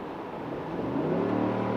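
Throttle blip from a Chevy Tahoe 5.3L V8 fitted with a Corsa cat-back dual exhaust: a steady low drone swells into a short rising rev that stays full and loud to the end.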